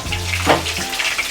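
Rohu fish hits hot oil in a pan, a short crackling sizzle with a brief sharper spatter midway, close by and with no one talking.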